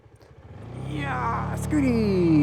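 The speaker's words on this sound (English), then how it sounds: "Some tuk-tuks." Tuk-tuks pass by on a street, engines rattling and rising as they approach, with a horn-like tone sliding down near the end and a voice speaking briefly.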